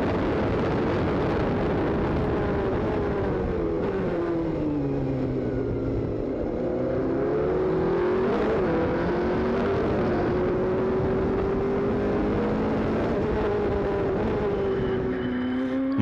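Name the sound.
race cars at Sepang, Asian Le Mans Series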